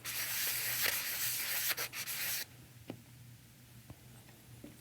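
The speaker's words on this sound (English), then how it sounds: "I'm going to use the same sanding block I used previously and just rough up that surface" A sanding block rubs back and forth roughing up the surface of an in-hull transducer mounting flange, a close, raspy scraping for a couple of seconds before stopping, leaving a few faint taps.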